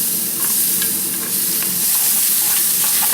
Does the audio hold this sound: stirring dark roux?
yes